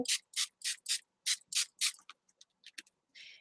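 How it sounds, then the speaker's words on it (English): Quick bursts from a spray bottle mist water onto an art journal page, seven or eight crisp hissing squirts in a fairly steady rhythm, close and clear, followed by a few softer spritzes and a short rustle. "I'm going to take just a spray bottle, and I'm just going to get it all wet"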